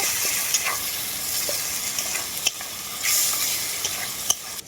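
Spice paste with chopped tomato and coriander leaves fries in a pan, a steady sizzle broken by scraping stirs and occasional spatula knocks.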